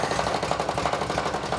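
A race mower's opposed twin engine idles steadily nearby, a low even pulsing putter with no talk over it.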